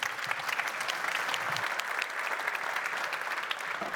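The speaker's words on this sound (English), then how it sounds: "Please, one big applause." Audience applause at a conference session: a dense, even wash of many hands clapping, sustained at a steady level for the whole stretch with no one speaking over it.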